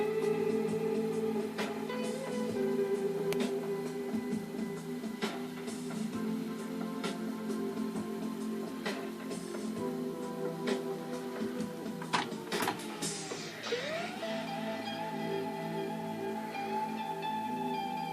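A Tandberg 9000X reel-to-reel tape machine runs nearby with a steady mechanical whir and faint ticking, and its motor tone dips and then shifts near the end as if changing mode.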